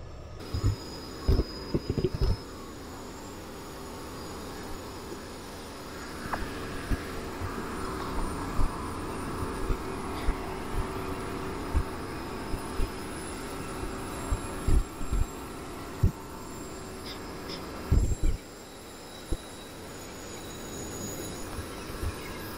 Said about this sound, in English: in the distance you can see a Norfolk Southern train inching its way up the curve